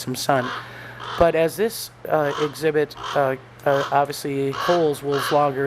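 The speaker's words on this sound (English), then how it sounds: "the noise you're hearing is the ravens" Ravens call repeatedly near a wolf enclosure at a summer exhibit, their harsh caws mixing with someone talking over them.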